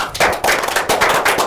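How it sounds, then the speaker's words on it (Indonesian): A small group claps at a talk-show panel event, quick uneven bursts of hand claps close by, loud and brief. "tepuk tangan dulu"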